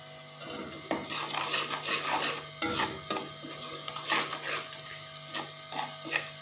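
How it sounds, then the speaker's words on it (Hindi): Masala with salt and turmeric fries in a pan while a metal spoon stirs and scrapes it, giving a steady close sizzle broken by repeated clinks and scrapes. No one speaks. "नमक और हल्दी डाल के अब इसको हल्का सा मसाले को फ्राई करके तो फिर इसमें मैं साग ऐड कर देती हूँ।"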